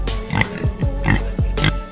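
A pig grunts and oinks in a short series of close, rough calls, about four bursts over two seconds, with no talk.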